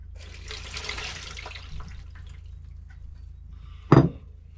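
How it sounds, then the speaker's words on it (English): Water drains off defrosted frozen peas in a home kitchen while making chicken samosas, a soft splashing pour early on followed by quiet, with a sharp clunk of the bowl near the end. "So I'm just going to drain those off."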